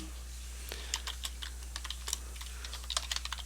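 Keystrokes on a computer keyboard as a terminal command is typed, a run of quick, fairly close clicks in uneven bursts over a steady low hum.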